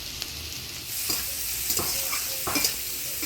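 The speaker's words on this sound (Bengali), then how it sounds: "পেঁপেটা ভাজা ভাজা করে নিলাম" Papaya pieces stir-fry in hot oil after a dried-chilli tempering and a pinch of turmeric, making a constant sizzle with several distinct stirring strokes.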